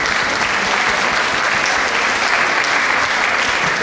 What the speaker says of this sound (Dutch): Uw applaus voor meneer Hanegeefs.